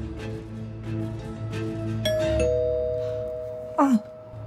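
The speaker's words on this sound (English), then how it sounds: "Is that the doorbell?" A doorbell chimes indoors in two tones, a clear ding followed by a lower dong that rings on and decays, with a short burst of sound just before the end.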